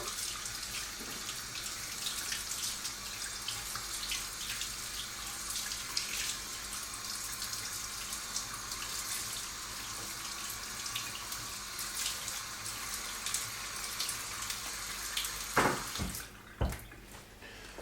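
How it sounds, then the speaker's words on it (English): Cold tap water runs steadily into a sink while rinsing salmon, a soft continuous hiss and splash at moderate distance, ending with a few louder clunks and splashes. "rinse it off with some cold tap water"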